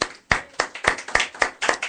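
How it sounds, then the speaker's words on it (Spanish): A few people clap in a steady, distinct rhythm during a Christian radio class broadcast, the claps close and crisp, roughly three per second, with no voices over them. "¿qué tal si le damos un fuerte aplauso a los amigos que nos están escuchando, ¿no?"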